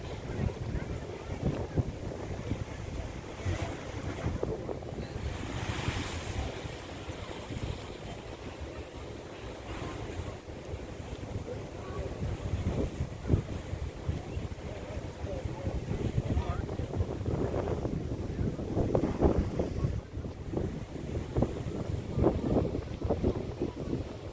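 Pacific Ocean waves surging at the Kiama blowhole in New South Wales, a continuous rumbling wash of surf with gusty wind buffeting the microphone and occasional voices in the background.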